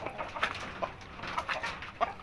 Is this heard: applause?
no